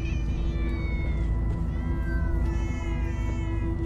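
Several cats meow loudly and continuously in the Minecraft: Story Mode video game, overlapping drawn-out cries over a constant low background din.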